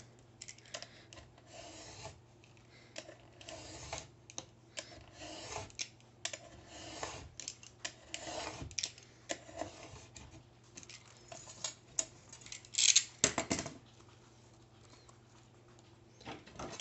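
Paper being cut with a worn craft-knife blade and then with scissors, heard as irregular close scraping and rasping strokes with sharper snips near the end, without talk.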